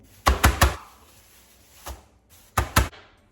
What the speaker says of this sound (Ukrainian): Печінку я завжди відбиваю ось цією частиною молотка.